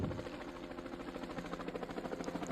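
Cartoon helicopter sound effect, a steady buzzing rotor drone with a fast rhythmic pulsing chop, continuous and fairly loud with no voices over it.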